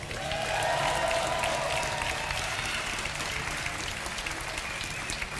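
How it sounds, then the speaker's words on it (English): A crowd at a StarCraft 2 match cheers and applauds for Evil Geniuses player Jaedong, a dense, steady wash of clapping and shouts that holds evenly throughout. "Give a big cheer for Evil Genius's Jaedong."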